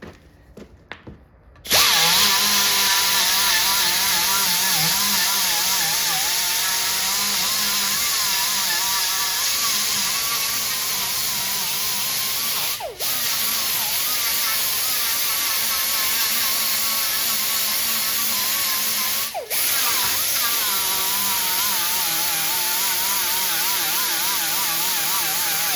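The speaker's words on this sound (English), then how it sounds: "Just my little 2-inch angle grinder with 36 grit sanding disc on it." A small 2-inch angle grinder fitted with a 36 grit sanding disc grinds metal in one long, loud, steady whine, dipping briefly twice as pressure eases.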